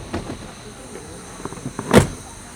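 A top-of-the-line double power sliding minivan door runs with a low, steady motor whir, then closes with a sharp thud near the end, heard at close range.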